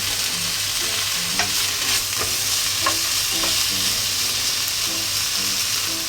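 Onions, bacon and garlic fry in a pan with a steady bright sizzle, while a utensil stirs and scrapes the food at intervals.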